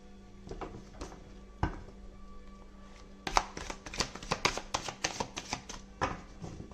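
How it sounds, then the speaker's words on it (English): An Animal Tarot deck is shuffled awkwardly by hand. A few isolated card snaps come first, then a rapid run of crisp riffling clicks, close and clear. "I'm shuffling like really awkwardly"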